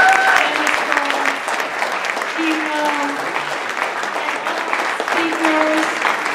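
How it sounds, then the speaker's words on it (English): A room full of people at a public school funding forum gives sustained, even applause, with the dense clapping holding steady and fairly loud and a few voices heard through it. "I think we should just give one more round of applause to our"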